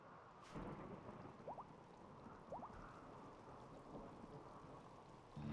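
Thunder and rain in the video game RimWorld, a steady hiss of rainfall with a sharp thunder crack early on and a low rumble under it, quiet and continuous.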